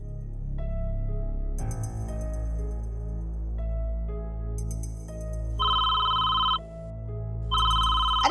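A telephone rings in repeated electronic bursts, loud and close, with pauses between rings and no talking.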